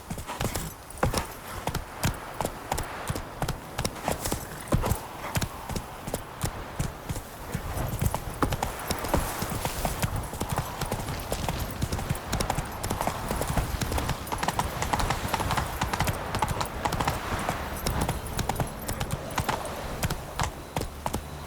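A horse's hooves clip-clop while being ridden in The Witcher 3: Wild Hunt, a steady, rapid rhythm of hoofbeats running throughout over continuous game ambience.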